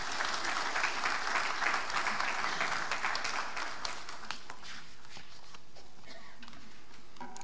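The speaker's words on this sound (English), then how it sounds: "Please, a round of applause." Applause from an audience at a formal university event in honour of Crown Prince Haakon of Norway. It begins as dense, sustained clapping and then thins and fades away over several seconds.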